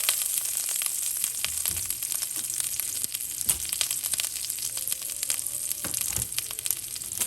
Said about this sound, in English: I'm going to add some olive oil to my pan